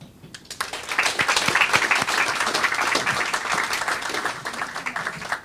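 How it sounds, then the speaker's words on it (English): An audience claps warmly for the Carifesta 15 delegation at a press conference, a dense, steady round of applause that swells quickly and holds, then tapers near the end. "a round of applause, please"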